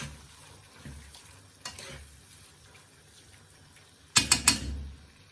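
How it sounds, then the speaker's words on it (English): A spoon stirs curry shrimp in coconut milk in a pan. A few soft scrapes come early, then a loud cluster of three or four quick, near scraping clacks toward the end over a faint sizzle. "Give that a stir again."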